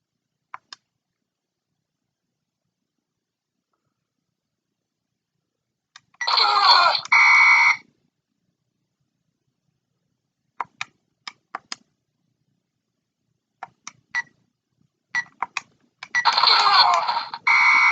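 Handheld Electronic Football game gives off two bursts of shrill, alarm-like electronic beeping, each about two seconds long, with scattered short blips and ticks between them and silence around them.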